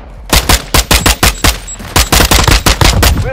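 Automatic gunfire in Call of Duty: Modern Warfare II during a compound assault, a loud, close series of rapid bursts, a dozen or more punchy shots in an uneven stuttering rhythm.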